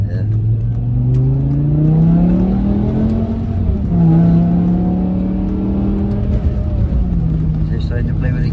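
A BMW E60 M5 with a V10 engine pulling through its gears, the rising engine note sweeping up and dropping at shifts, steady and close, with people talking over it.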